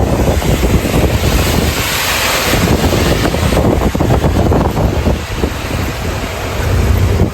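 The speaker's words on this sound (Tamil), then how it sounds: "மழை இங்கே வெளுத்து வாங்குதுங்க" Heavy rain drums on a lorry driving through Gujarat, a loud, continuous wash of hiss and rumble with wind buffeting, no voices over it.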